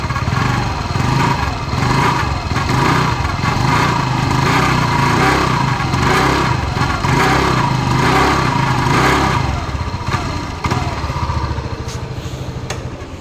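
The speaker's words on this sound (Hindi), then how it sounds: "ये देखिए स्कूटर स्टार्ट हो गई है, अब मैं आपको इसकी पूरी साउंड सुना देता हूँ." A TVS Wego scooter's small CVTi engine idling close by, a steady buzzing putter that holds even for several seconds before tapering slightly at the end.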